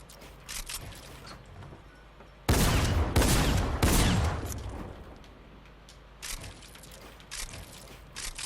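Tactical shotgun firing in Fortnite, a short cluster of loud blasts with mechanical pump clacks, followed by quieter distant shots and clicks; no talking.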